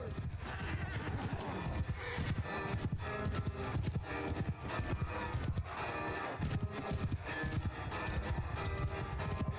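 Rapid hoofbeats of a galloping horse with a whinny in the video game Mount and Blade Bannerlord, a busy steady clatter running throughout at moderate loudness.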